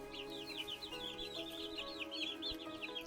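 Birds in a cramped storage-closet roost in the game Upwards, Rain!, steady overlapping clucking, warbling calls over a low droning musical background.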